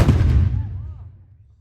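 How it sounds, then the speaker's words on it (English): A single loud cannon blast at Old Fort Jackson, Savannah, Georgia, with a heavy booming report that rolls and decays into a long echoing rumble. "this cannon produces quite a loud charge"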